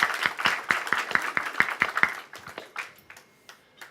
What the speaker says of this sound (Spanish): Le pido un fuerte aplauso y comenzamos con la siguiente ponencia.